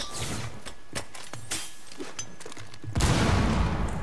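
A grenade blast in a competitive bomb-defusal shooter game bursts out loud and broad about three seconds in, after scattered sharp clicks and gunfire-like pops, then leaves a dense rumbling wash.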